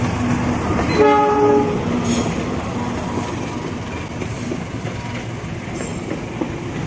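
A train horn blasts briefly as the train rolls past on track 3 at Manggarai station, followed by a steady rumble of wheels clacking over the rails.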